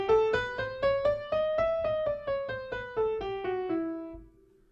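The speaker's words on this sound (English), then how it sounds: "What is Raga Pilu? It's an Indian scale." A keyboard plays the Indian scale Raga Pilu unaccompanied, about a dozen clear, evenly paced notes rising and then falling, ending on a longer held tone.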